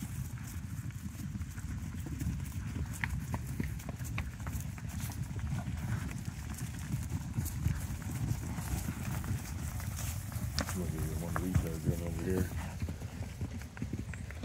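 Beef cattle run onto fresh pasture, their hooves drumming in a dense, continuous patter at moderate distance, with a voice speaking briefly near the end.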